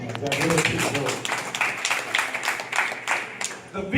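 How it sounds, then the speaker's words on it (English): A gathering at a community meeting claps together for guests, a loose, moderately loud patter of many hands that swells and eases, with a voice briefly heard over the start. "Let's clap for his partners."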